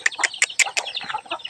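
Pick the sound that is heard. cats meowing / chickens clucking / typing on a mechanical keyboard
chickens clucking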